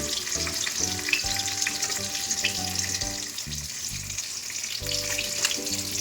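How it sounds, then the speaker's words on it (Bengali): Fish pieces frying in a pan in a home kitchen, a loud continuous close sizzle with bright spitting crackles, no talk over it. "মাছগুলো ভাজা হতে মাছটাকে উল্টে দিয়েছি"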